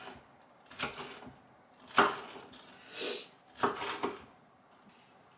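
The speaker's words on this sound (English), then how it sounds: "And then I'm just chopping them up into little bite-sized pieces." Knife chopping fake southern fried chicken bites into small pieces on a board: several sharp, separate cuts spaced about a second apart, close and fairly quiet, with no talking.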